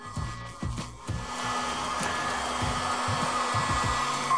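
A hot air welding gun for TPO roofing membrane runs alone with a steady blowing hiss and a low motor hum as it heats up, preceded by a few brief handling knocks.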